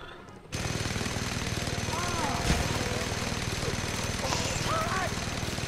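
Rapid automatic gunfire from the video game Just Cause 2, a steady loud rattle running through most of the stretch with occasional sharper shots and small whistling effects, with a voice talking over it.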